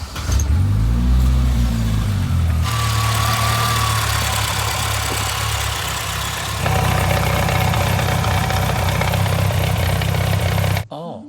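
A Subaru engine idles loudly and roughly, with a low rumble and an uneven knocking quality that shifts pitch partway through before stopping.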